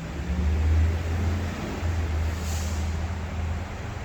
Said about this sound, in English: before yet another truck squeaks by